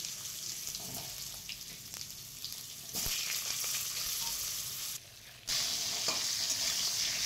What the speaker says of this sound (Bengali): ফোড়ন ভালোভাবে হয়ে গেছে, আলুগুলো ছেড়ে দিচ্ছি।